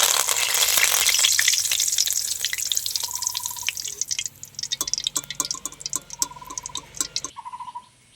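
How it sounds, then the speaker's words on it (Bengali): Curry leaves crackle in hot oil in a pan while making Bengali jhuri aloo bhaja, a loud hissing spit at first that thins into scattered pops and drips, with occasional ringing utensil taps, heard up close. "এবার কারি পাতাটা আমি একই রকম করে ভেজে নেব।"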